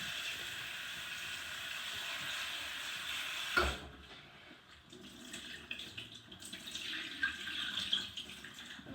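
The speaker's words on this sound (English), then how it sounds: "I'm just going to put a ton of water in there" Water runs steadily from a tap, then drops off after a clunk and turns into fainter, uneven splashing and trickling.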